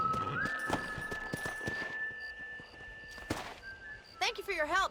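A horse in Red Dead Redemption clops and snorts at close range among game sounds and a sustained tone, with a voice speaking briefly and a whinny near the end.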